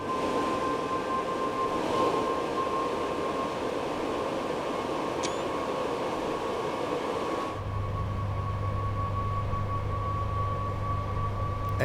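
Electric train on the West Coast Main Line in Train Sim World 5, a steady loud hum and whine with broadband running noise, shifting partway into a lower droning tone as the motors continue.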